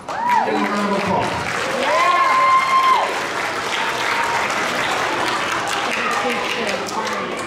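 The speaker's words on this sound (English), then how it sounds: "Give him a round of applause" A crowd applauds a youth football head coach at a season showcase, with clapping rising and holding while a voice and whistling tones ring over it.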